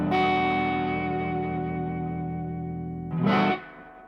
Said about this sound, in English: You'd never use the reverb that high unless you're in like a surf band or something